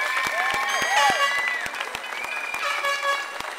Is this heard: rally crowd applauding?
yes